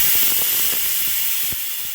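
Pressure cooker whistling out steam while cooking Malnad-style colocasia sambar with greens, a steady loud hiss throughout with faint clicking pulses underneath.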